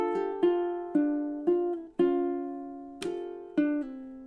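A ukulele plays a measure of a song with a series of evenly spaced plucked notes and chords. Each one rings and decays, close and clear, with no talking.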